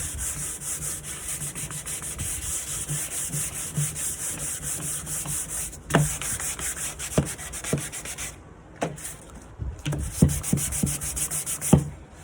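Hand sanding scrapes over a wooden night table in repeated rubbing strokes, close and steady, with a few sharper knocks and scuffs toward the end.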